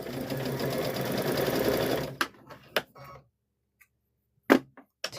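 A sewing machine stitching a hummingbird and butterfly quilt block runs in a steady, close whirring burst for about two seconds, then stops, leaving a few sharp clicks and knocks amid near silence.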